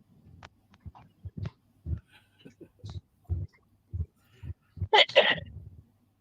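A short, sharp sneeze near the end, following a series of soft low thumps and quiet murmurs.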